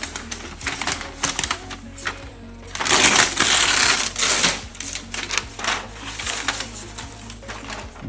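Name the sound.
unwrapping MacBook Air M2 laptop from foil wrap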